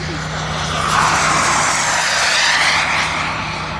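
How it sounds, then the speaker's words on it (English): Radio-controlled F9F Panther and swept-wing F9F Cougar jet models flying close together in formation, giving a steady, loud engine roar that holds throughout, with a low hum underneath. "This is the silver and blue Panther, followed by the swept wing, which eventually replaced it in real action, the Cougar F9F."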